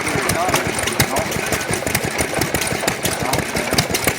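A homemade engine runs close by with a rapid, rough, knocking chug at an uneven idle, sharp irregular pops punctuating the steady drone.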